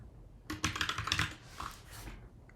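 Rapid typing on a computer keyboard while entering input for a C# program, a dense burst of close, crisp key clicks lasting about a second and a half, then a few lighter taps trailing off.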